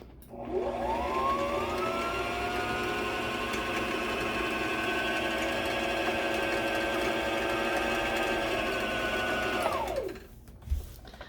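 A Brother XR3774 sewing machine winding a bobbin, a steady close motor whir that ramps up, holds for about nine seconds, then winds down and stops.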